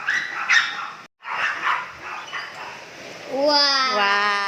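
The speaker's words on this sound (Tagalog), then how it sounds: "Yung mga aso." Several dogs outdoors in the early morning give excited, overlapping barks and yips that swell into a rising, wavering whine, with people talking nearby over the noise.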